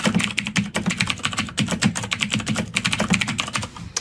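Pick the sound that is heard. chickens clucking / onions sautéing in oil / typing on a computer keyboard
typing on a computer keyboard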